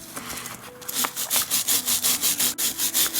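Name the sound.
brass brush scrubbing cuckoo clock part with toothpaste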